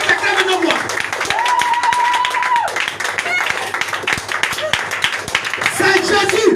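A church congregation claps and acclaims Jesus during worship, with steady rapid clapping running throughout beneath a loud voice and sustained singing tones.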